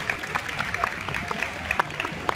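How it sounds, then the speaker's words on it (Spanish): Scattered audience applause at a martial arts demonstration, a thin patter of claps with sharp individual hits over a noisy outdoor crowd, voices murmuring underneath. "¡Aplauso, por favor, pues, animado!"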